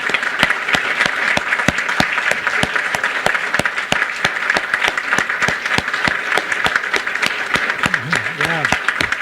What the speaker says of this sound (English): And let's just have one more round of applause for all our great graduates.